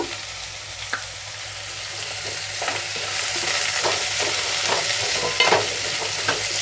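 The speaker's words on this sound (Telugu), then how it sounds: "ఫ్రై అయిన ఉల్లిపాయలు వేసేద్దాము ఇందులోనే" Fried onions are stirred into a pan of sizzling kohlrabi and peas for a Telugu-style curry. The hiss of frying runs steadily throughout, with a spoon scraping and stirring close up and no voices.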